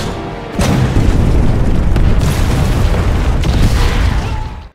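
Underground tunnel explosion in an action film: a sudden deep boom after a brief quiet lead-in, then a sustained roaring rumble that fades out near the end.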